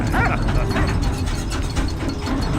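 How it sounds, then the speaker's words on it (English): Walt the dog in Valiant Hearts gives a string of short yips and whimpers while being petted, the barks close and lively over a steady game backdrop, with no talking. "And then we can pet the dog"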